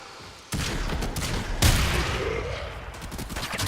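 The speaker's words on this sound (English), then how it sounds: "It's a great, big, massive shotgun." A massive Heck shotgun fires in Warframe, heavy blasts landing over continuous loud battle noise, with a strong burst around the middle and sustained roaring gunfire throughout.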